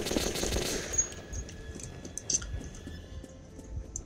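Rapid automatic gunfire in the video game Metro 2033, steady bursts of clattering shots over a noisy game background.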